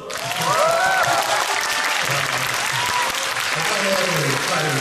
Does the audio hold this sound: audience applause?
yes